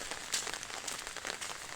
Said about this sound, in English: It's light rain.